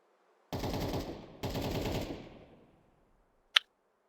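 Two sustained bursts of rapid gunfire from Counter-Strike pistols, each lasting about a second and close and loud, followed a moment later by a single sharp crack.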